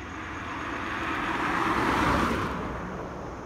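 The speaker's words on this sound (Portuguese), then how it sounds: "Os carros, eles passam em alta velocidade aqui" A vehicle on an asphalt highway in rural Brazil rushes past at high speed. Its broad roar swells to a peak and then fades, with no voices over it.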